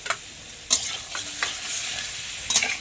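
Ginger, cumin and green chilli paste stirred into hot oil with pointed gourd, a steady soft sizzle broken by a few sharp scraping clicks of a spatula against the pan, close and without voices.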